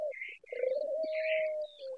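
Domestic pigeons, part of a flock of over a hundred birds, coo steadily in a low, continuous murmur lasting about two seconds, with brief high chirps above it and no talking.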